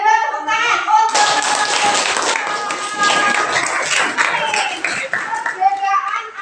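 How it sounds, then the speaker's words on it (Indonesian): Classroom applause from a group of students clapping hands together, dense and steady throughout, with children's voices calling out over it at the start and end. "Iya, tepuk tangan untuk"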